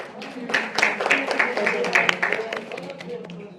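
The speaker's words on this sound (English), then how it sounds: "Let's have a round of applause for her." A round of applause from an audience at a yoga and nature talk, a moderately faint patter of scattered hand claps that swells and fades over a few seconds, with some voices mixed in.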